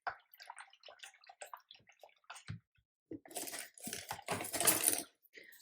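A watercolor brush is swished and rinsed in a small container of water, faint clicks and taps followed by a few seconds of soft splashing and sloshing, close and quiet.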